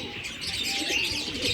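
Pet pigeons coo softly in a home loft, low gurgling calls mixed with a few chirps over a steady background hum, close by and continuous.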